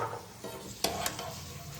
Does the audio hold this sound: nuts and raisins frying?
yes